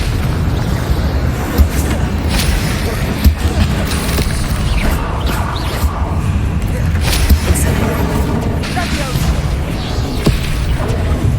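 Repeated Confringo blasting spell explosions in the video game Hogwarts Legacy, a dense run of booming bursts and crashes with irregular sharp peaks over continuous game noise.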